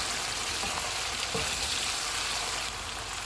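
Beef and tomatoes stirred together in a hot pan, a steady soft frying sizzle with a faint scrape of stirring partway through, close and even throughout.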